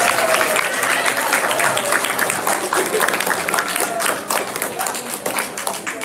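A school audience of children applauding to welcome a visiting author and illustrator, dense clapping holding steady for several seconds, with voices mixed in.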